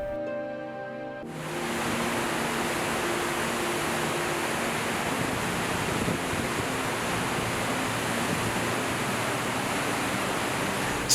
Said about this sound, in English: Victoria Falls is the world's largest waterfall by sheet flow, plunging 108 meters into the Zambezi River